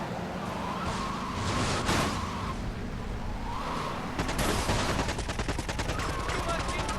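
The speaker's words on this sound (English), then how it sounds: "Now just to lay some fire on them." Gunfire in Grand Theft Auto Vice City Definitive Edition on PS5: bursts of rapid shots, with a dense automatic volley in the second half, over game sounds and a faint siren-like wail.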